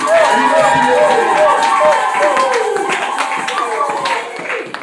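A church congregation claps loudly and steadily through the whole stretch in a dense crowd wash, with sung or chanted voices running underneath, then eases slightly near the end.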